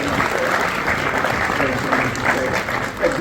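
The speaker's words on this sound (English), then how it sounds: "please keep that applause going for Mr. Mzwandile" Steady applause from a crowd, continuous clapping for a few seconds with a murmur of voices mixed in.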